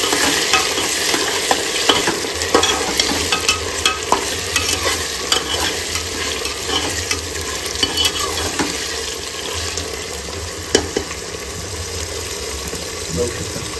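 Masala rice being stirred and mixed in a pan, with a steady sizzle of frying and a spoon scraping the pan, close and continuous throughout.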